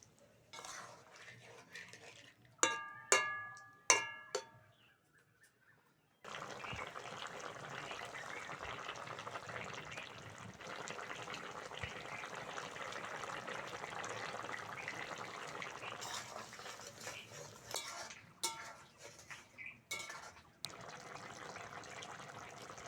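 Cooking water from boiled potatoes and beans is poured into a kadai of fried masala. A few sharp utensil clinks come first, then a steady, close rushing sizzle that continues alone.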